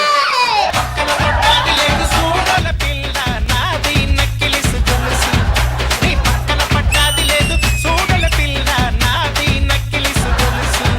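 A studio audience cheers and shouts over loud, pounding rhythmic music at a televised comedy show, dense and continuous with whoops rising above.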